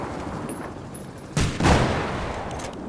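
Sniper gunfire in a video game: two sharp, loud shots in quick succession, each followed by a brief echoing tail over a low, steady background.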